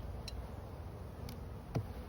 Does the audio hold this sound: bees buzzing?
yes